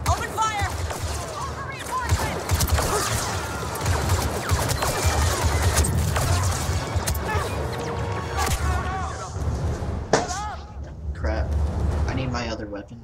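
Dense battle gunfire from a Star Wars Battlefront 2 firefight in a plaza, with rapid blaster volleys and crashes pouring out loud and nearly nonstop for the whole stretch, briefly easing near the end.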